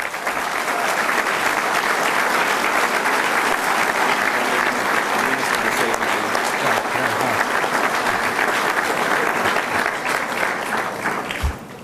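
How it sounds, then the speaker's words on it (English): A hall audience at the 2013 Denton Hurdle Awards gives a long round of applause for 54 students, dense, even clapping sustained for nearly twelve seconds and fading slightly at the end. "I think all 54 students are worthy of another great round of applause"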